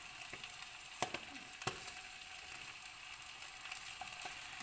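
Sausages browning quickly in a single pot for a simple sausage cassoulet make a faint, steady sizzle and frying crackle, with a few sharp pops and spits scattered through it.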